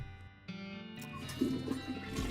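Flushing toilet in the professor's well-kept bathroom in the video game West of Loathing, a rushing watery swirl that rises and fills after a short click, heard close and alone with no talk.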